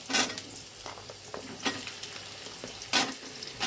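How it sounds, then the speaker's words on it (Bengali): Potatoes hit hot oil tempered with whole cumin seeds, giving a loud, close, continuous sizzle with bursts of spattering and the scrape of stirring, and no voices. "গোটা জিরেটা ফোড়ন দেওয়ার পরেই আমি ওর মধ্যে দিয়ে দেবো আলুগুলো।"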